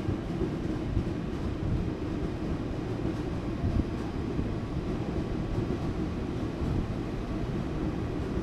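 A KRL commuter train at Bekasi station, heard as a steady loud low rumble and rolling rail noise that holds without a break, with no voices over it.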